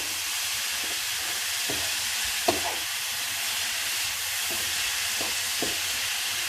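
Martabak filling with egg being stirred in a frying pan, a continuous loud sizzle broken by several spatula scrapes and taps against the pan and no talk.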